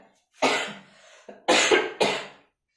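Three harsh coughs, the first followed by a trailing rasp, then two sharp bursts in quick succession, close and fairly loud with no talking.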